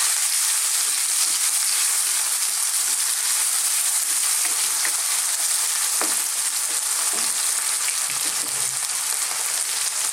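Onions and garlic-ginger paste sizzle hard in a hot pan for an Indian lamb chilli fry, a loud continuous crackling hiss with a few sharp pops and scrapes, no talking.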